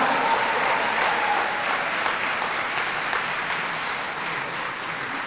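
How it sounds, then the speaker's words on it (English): A hall full of people applauds the 2022 graduating class at a university oath-swearing and awards ceremony, continuous clapping that holds steady and tapers slightly toward the end. "please join me to give the 2022 graduating class a sounding round of applause."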